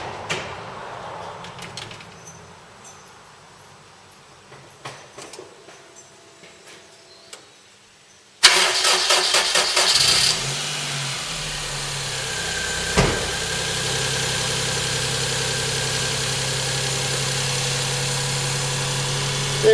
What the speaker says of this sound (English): I'm going to turn the key and it should be okay.